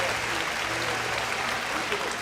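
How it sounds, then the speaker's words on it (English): Steady applause from the audience at a school May Day program for fourth and fifth grade students, with a broad, even wash of clapping throughout. "Let's give him a round of applause."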